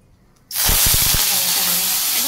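Bay leaf and cumin dropped into hot oil in a pan, bursting into a sudden loud hiss and sizzle that holds steady, with a quick burst of crackles at the start.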